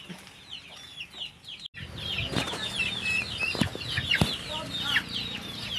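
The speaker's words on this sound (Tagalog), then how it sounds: "pansamantala lang na may mga manok dito sa gilid" Chickens cluck and chatter close by, with a burst of wing flapping and scattered squawks throughout.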